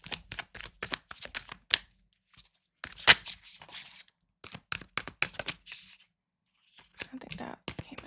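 Tarot cards being shuffled by hand, a series of quick crisp riffling bursts close by, with short pauses between them and a louder snap near the middle.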